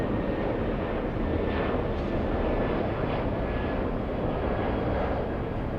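Qatar aircraft passing at a New York airport, a loud, steady engine roar with a faint whining tone running through it, close and continuous for several seconds, with no talk over it.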